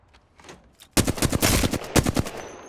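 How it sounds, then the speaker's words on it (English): Automatic gunfire in the video game Apex Legends begins after a quiet moment, with rapid bursts that are loud, sharp and close. "Looks like somebody's shooting from the right, no?"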